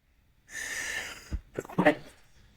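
A single sneeze bursts out after a drawn-out breathy inhale, ending in a couple of sharp, close nasal snorts; no other sounds accompany it.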